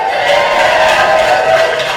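A theatre audience cheers and roars continuously at a live one-night play event, a dense, steady crowd wash with scattered shouts and a high whistle-like tone running through.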